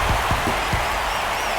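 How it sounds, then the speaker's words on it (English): A ballpark's home crowd roars after a home run in a Major League Baseball game, a loud, steady wash of cheering with a few claps near the start. "That fires up the home crowd."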